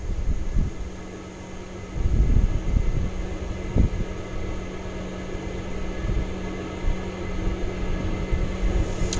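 The auxiliary power unit of a Q400 turboprop airliner runs its startup test, a steady whining hum with a constant tone, interrupted by a few soft thumps and clunks, with no talking.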